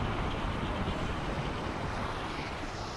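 A steady, broad rush of flowing water in the VR game The Climb's canyon level fills the clip evenly without pause, fairly loud and close, with no talking.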